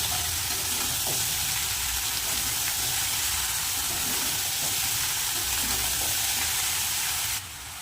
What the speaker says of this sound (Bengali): শুটকি মাছ দিয়ে খানিক্ষণ নাড়িয়ে চাড়িয়ে কেটে রাখা সবজিগুলো দিয়ে দেবো